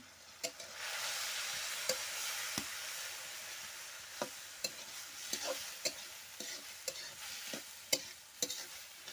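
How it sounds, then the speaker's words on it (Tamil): Chopped raw mango with onion and chili is stirred in a hot pan, giving a steady sizzle broken by sharp, irregular scrapes and taps of the spoon against the pan, close and moderately loud. "துரி வச்ச மாங்காய் எல்லாமே நான் சேர்த்துட்டேன் இப்போ கிளறி விட்டுடலாம்"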